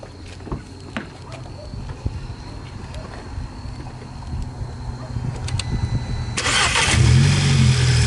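A 2012 VW GTI fitted with an Injen Stage 2 intake cranks and fires up near the end, settling into a low idle rumble after a stretch of quiet shuffling and background noise.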